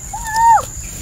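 A single bird call rings out in a horror video game, a clear whistled note that rises, holds and then bends downward before fading, close and fairly loud over a quiet background.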